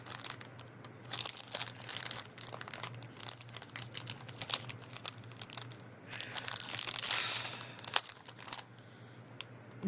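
A plastic bag crinkles and rustles up close in irregular bursts for about ten seconds, with a steady low hum underneath and no talking.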